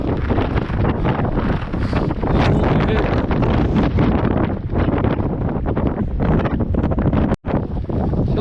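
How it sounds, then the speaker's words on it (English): Strong January wind roars on a Lake District fell near Great Rigg, buffeting the microphone in a loud, continuous rush with gusty swells and one momentary drop. "This wind is absolutely energy sapping."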